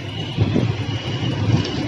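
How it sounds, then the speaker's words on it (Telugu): A railway engine used for electrical works rumbles past nearby, a loud, steady low drone with a constant hum and no voices. "ఎలక్ట్రీషియన్ వర్క్స్ వాడే ఇంజన్ అన్నమాట ఇది"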